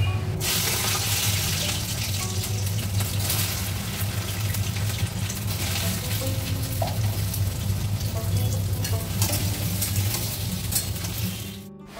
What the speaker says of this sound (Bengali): এদিকে মাছের ঝোলও ফুটে গেছে